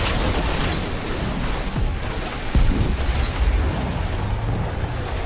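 Gunfire and explosions in the Guardians of the Galaxy video game: dense, continuous battle noise with rumbling booms and bursts of crackling fire, getting heavier and thumping harder partway through.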